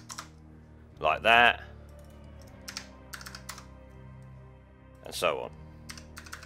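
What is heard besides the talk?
typing on a computer keyboard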